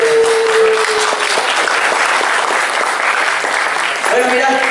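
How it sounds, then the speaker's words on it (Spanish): Audience applause at a marketing conference event, loud sustained clapping from a large crowd filling the room, steady throughout with a brief voice near the end. "Bueno, un fuerte aplauso para"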